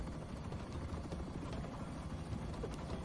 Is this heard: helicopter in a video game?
yes